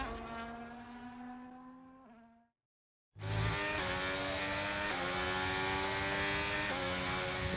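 An F1 racing car engine in the game F1 23, driven back to the pits without a front wing, wails in steady high-pitched harmonic tones. It briefly drops to silence, then returns loud and close with a sustained buzzing scream.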